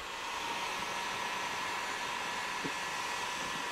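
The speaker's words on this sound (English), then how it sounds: "And then you'll grab your heat gun." Heat gun blowing hot air over the edges of a vinyl decal stripe, a steady close whooshing hiss of airflow that holds evenly throughout with no talk.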